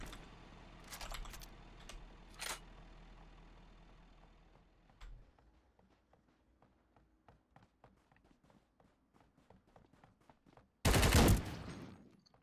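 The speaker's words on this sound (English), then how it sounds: "Did you just shotgun him?" Shotgun fire in the Ring of Elysium battle royale game: a few sharp shots early, quiet ticking footsteps in between, then a loud, close burst near the end, with no talking.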